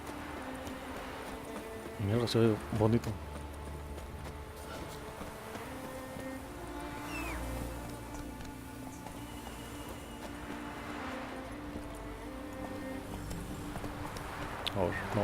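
Horse hooves in The Witcher 3, a bugged horse unable to climb, giving a short burst of clip-clop steps early on and fainter hoof sounds later under game ambience and someone talking.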